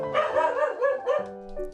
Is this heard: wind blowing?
no